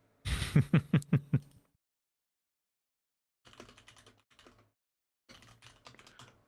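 Clicky bursts of typing on a computer keyboard: a quick loud run of keystrokes, then two quieter, softer patches of tapping after a pause.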